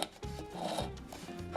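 A loose part on a Ridgid R4840 oscillating belt sander rubbing against the sanding belt, giving a close, rough scraping rasp with uneven repeated strokes and no talk.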